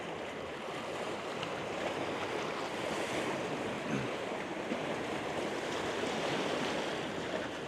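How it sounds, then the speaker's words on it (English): Waves wash ashore on Lake Michigan in a continuous broad rush of surf, with wind buffeting the microphone and no voices. "See the waves crashing ashore here."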